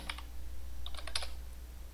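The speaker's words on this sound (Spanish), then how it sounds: "y digite tu nombre" Fingers type a name on a computer keyboard, a quick cluster of light plastic key clicks heard close and clear over a low steady hum, with no voices.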